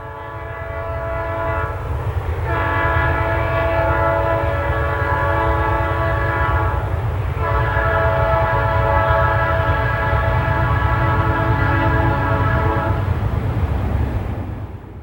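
A Green Bay & Western freight train rumbles past loudly while its horn blares in long, sustained blasts with brief breaks between them.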